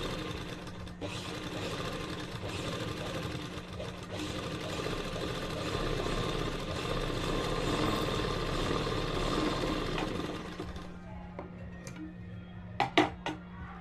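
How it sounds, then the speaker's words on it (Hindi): A sewing machine runs a long continuous stitch along a salwar seam, a steady close whir and tick that stops near the end, followed by a few sharp clicks. "यहाँ से मैं आधा सेंटीमीटर छोड़कर सिलाई लगाऊंगी।"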